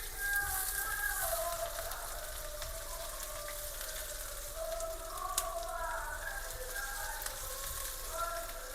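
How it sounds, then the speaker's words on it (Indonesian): Onions and garlic sauté in hot oil in a home kitchen, giving a steady close sizzle with occasional stirring scrapes throughout, with no talk over it. "Kita tumis dulu."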